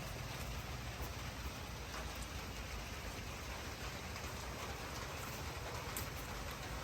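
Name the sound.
rain falling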